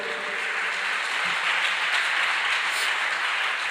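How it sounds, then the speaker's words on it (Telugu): A church congregation at a Hosanna Ministries worship service claps loudly together, a dense, even wash of applause filling the room without a break. "గట్టిగా చప్పట్లు కొట్టండి."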